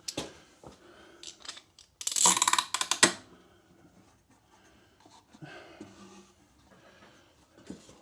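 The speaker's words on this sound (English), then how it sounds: "I'm going to get a clamp and clamp that in place." Clamp being tightened on an air cleaner part, a close burst of metallic clicks and ratcheting lasting about a second, with scattered quieter handling noises and rustles before and after.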